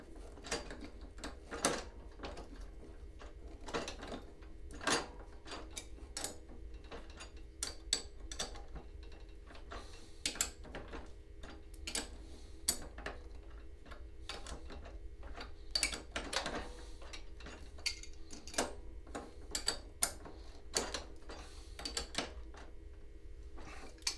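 A 1/2 inch wrench tightens a nut on a taper while pliers hold it, producing faint irregular ratcheting clicks and metallic ticks spread through a quiet workshop, with no voices.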